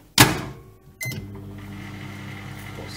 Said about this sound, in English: the bacon has been in the microwave for 2 minutes and 40 seconds